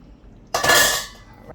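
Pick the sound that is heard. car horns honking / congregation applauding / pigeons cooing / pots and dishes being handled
pots and dishes being handled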